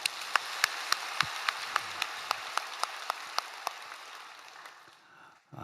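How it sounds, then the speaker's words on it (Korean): A church congregation at an early-morning service claps in slow, even unison, about fifteen sharp beats that fade toward the end, heard from a distance in a large hall. "우리 하나님께 영광의 박수 올려드립시다"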